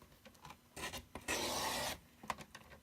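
Paper trimmer slicing through cardstock for a bridge fold card: a steady scraping rasp lasting about half a second and a brief rub before it, close and quiet, amid light handling noises, with no talking.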